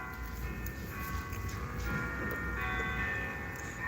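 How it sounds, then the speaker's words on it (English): Church bells ring at a basilica about a block down the street from a house, a faint, distant peal of sustained tolling tones over a steady outdoor backyard background. "Church bells going up is the Basilica."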